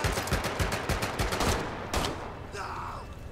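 Gunfire from German weapons in the Medal of Honor: Above and Beyond video game: a loud, rapid string of shots in a steady rhythm, then one sharper blast, followed by fading echoes.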